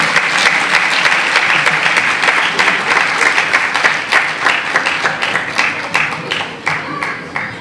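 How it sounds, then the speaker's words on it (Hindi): Loud, sustained applause from an audience for a group of children at a school stage event, dense clapping holding steady throughout with a few sharper hand claps standing out near the end. "इन सभी बच्चों के लिए एक बार जोरदार तालियां प्लीज"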